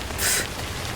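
Rain pours in the video game Death Stranding, a steady hiss that swells briefly near the start and then settles into a constant wash, with no talking over it.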